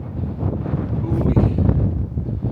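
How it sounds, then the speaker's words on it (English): Gusty wind on the steep upper slope of Stone Mountain buffets the microphone with a loud, rough low rumble that surges and rustles throughout. "wind's starting to pick up"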